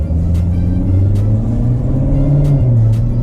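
A 2019 Chevrolet Corvette sports car engine rumbles steadily up close, its low drone rising and falling slightly as it revs, with no voices.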